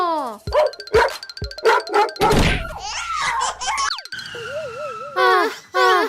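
Cartoon dogs barking in a Hindi animated comedy, loud yips and barks mixed with zany sliding whistles, thwacks and chaotic slapstick sound effects in quick succession, with no clear speech.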